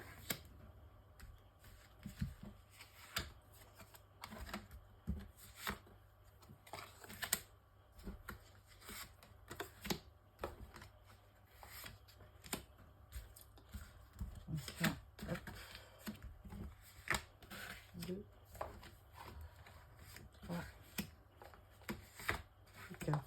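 Tarot cards being shuffled for a twelve-card spread, a steady run of soft riffling slaps and clicks carrying on for the whole stretch at close range, with no talking over them.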